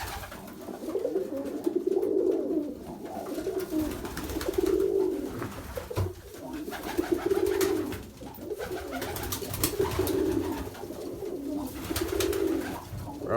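A flock of pigeons kept in a loft coos in repeated low throaty phrases, several birds overlapping steadily at close range with soft flutters and background rustle.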